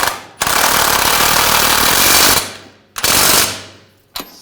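A loud power tool rattles in long hammering bursts, then shorter ones, as it tightens the ball joint nut on a front lower rearward control arm of a 2007-2013 BMW 328i, up close.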